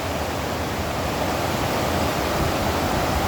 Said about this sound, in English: Oh, hearing that water going down, that's weird. Look at it, just thundering down.